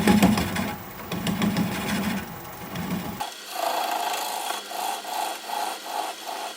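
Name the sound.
wood lathe turning a driftwood bowl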